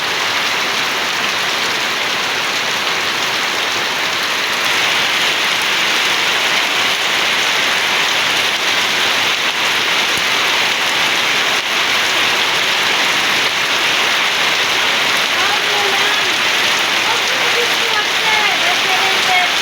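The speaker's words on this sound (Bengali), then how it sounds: "দেখেন প্রচণ্ড বৃষ্টি হইতেছে" Heavy rain pours down on a village in Tangail, a loud, unbroken hiss of drops drumming on surfaces that holds steady and close for the whole stretch.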